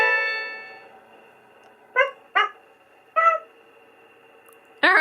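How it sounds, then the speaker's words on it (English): A Spin Master Present Pets electronic toy dog lets out a series of short, synthetic yaps, four clipped barks after a fading electronic tone, close and loud with no talking. "she made a series of barks"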